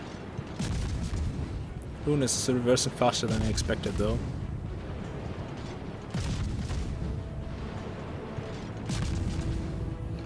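Main gun salvos from the warship Yueyang aimed at a Yamato battleship in World of Warships: deep booming shots and rumbling impacts sound at intervals beneath continuous spoken commentary.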